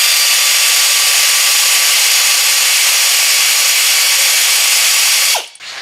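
A pneumatic air ratchet runs American-size bolts into the front suspension of a Chevy Chevelle under restoration. It gives a loud, continuous, close-up hissing whir for several seconds before cutting off abruptly.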